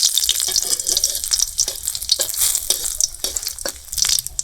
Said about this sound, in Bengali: তেলের মধ্যে কয়েকটা শুকনো লঙ্কা দিয়ে দিচ্ছি